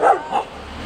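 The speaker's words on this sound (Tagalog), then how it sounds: "Galit ang dalawang aso." Two angry dogs bark in quick succession: two short, sharp, fairly close barks within a second, with a quiet background between them.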